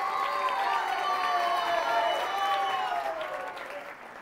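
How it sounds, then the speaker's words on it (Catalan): Studio audience applauding two contestants on a Catalan word quiz show, a steady broadband patter of many hands with cheering voices above it, fading slightly toward the end. "Vinga, anem a fer un aplaudiment als dos, que ho estan fent molt bé."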